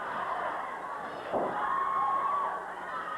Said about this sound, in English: The building cry of the crowd.